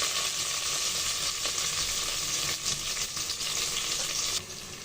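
Ginger garlic paste and green chillies fry in hot oil after onions for a fish and taro curry, making a loud, dense, continuous sizzle up close that eases slightly toward the end, with no talking.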